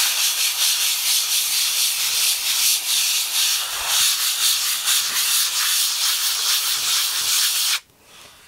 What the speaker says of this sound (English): so now you want to sand it again